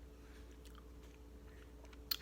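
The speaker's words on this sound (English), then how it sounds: "That crunching that you hear besides me is also the cat." A cat eating dry food nearby, soft irregular crunches and chewing clicks, faint over a low room hum with a sharper crunch near the end.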